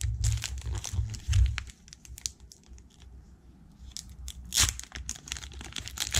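Glued Pokemon card pack being torn open, with loud close crinkling and ripping foil, bursts of rustling and a sharp tear near the end.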